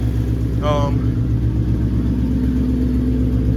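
A 2013 Ford Mustang Boss 302 engine runs steadily with a low, constant rumble, close by, while a brief higher-pitched whine rises and fades early on.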